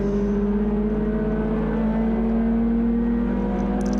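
A touring car racing at Cadwell Park in a CSCC Tin Tops event, its engine droning steadily and loudly from inside the cabin with a slowly rising pitch, no voices.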